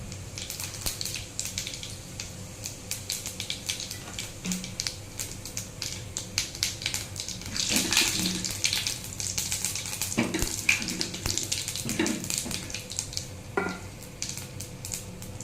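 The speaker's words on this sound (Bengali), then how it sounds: "এবার কড়াইতে আমি দেব জিরা ফোড়ন" Cumin seeds crackle and sizzle in hot oil in a wok, a continuous close frying hiss with sharp pops and a few scraping stirs.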